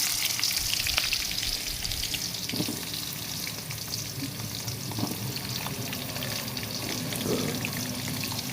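Potato pieces frying in hot oil for a fish-and-potato dish, a steady dense sizzle running throughout with occasional soft scrapes and clinks of stirring, close and alone without any talk.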